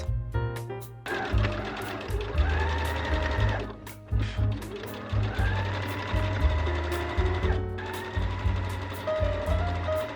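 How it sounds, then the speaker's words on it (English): Sewing machine running steadily as it top stitches around the neckline of a flannel wrap dress, catching the edge of a ruffle and bias tape; a close, continuous motor whir with brief pauses and restarts. "I'm now going to top stitch around my neckline onto the edge of my ruffle to sew the ruffle and bias tape into place."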